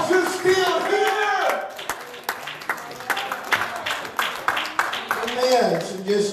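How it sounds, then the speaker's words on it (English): A church congregation at an evening praise service claps their hands, a burst of scattered applause rising and fading over several seconds, with voices and shouts mixed in. "would you clap your hands tonight?"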